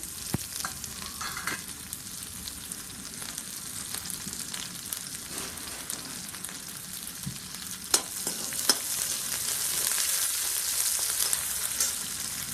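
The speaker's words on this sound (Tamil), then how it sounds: "இப்போ கருவேப்பிலையும் வெங்காயத்தையும் போட்டுருவோம். அது நல்லா வேகட்டும்." Curry leaves and onions frying in oil for an apple mor kuzhambu, a soft, continuous crackling sizzle with scattered pops and stirring sounds, growing slightly brighter and louder toward the end.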